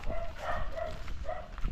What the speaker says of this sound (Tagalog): May mga aso.